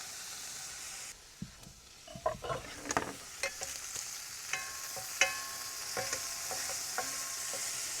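Ham frying in a hot pan on a Camplux FG01AR portable camp stove: a hiss that swells after a quiet start, with scattered crisp pops and clinks of the pan, close and without talk.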